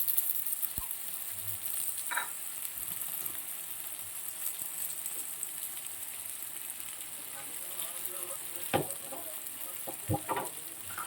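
Mustard paste sizzling in hot oil in a frying pan, a steady soft crackle throughout with a few sharper pops and clinks, close and moderately loud.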